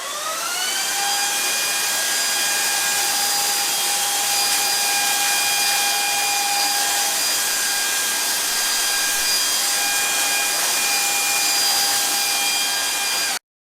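A Proscenic P9 cordless stick vacuum cleaner runs close and loud, with a steady whining motor drone and high tonal hum that holds evenly throughout before cutting off abruptly at the end.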